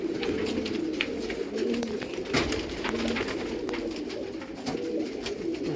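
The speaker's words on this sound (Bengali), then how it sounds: "পাক নেওয়া শুরু করে দিয়েছে পায়রা" Pigeons coo softly and repeatedly while circling overhead outdoors, low throaty calls over a steady background hiss with scattered clicks.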